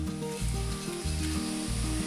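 Grated coconut roasting in a pan until browned for a Kerala brinjal theeyal, giving a steady close sizzle with rhythmic scraping and stirring pulses, no voices.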